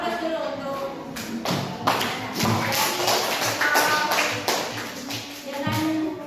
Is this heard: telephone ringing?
no